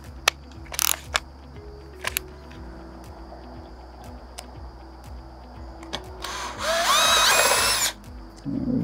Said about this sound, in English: We're also going to countersink so that the head of our screw will fit snugly to the bottom of the handrail.